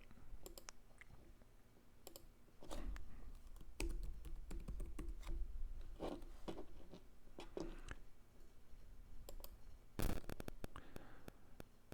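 Typing a new name on a computer keyboard in building-control software: scattered key clicks in short bursts, fairly close, with a faint steady hum underneath and a louder cluster of rapid clicks near the end.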